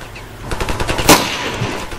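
Gunfire in the Ravenfield video game, rapid bursts of shots in a quick rhythmic string with one louder crack in the middle, close and fairly loud.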